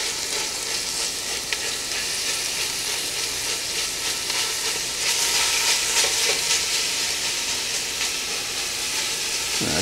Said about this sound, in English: Go ahead and add our sausage.